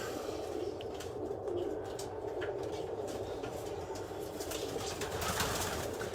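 Racing pigeons coo and stir in a loft, with soft wing flaps over a steady, faint background rumble.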